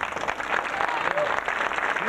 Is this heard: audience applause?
yes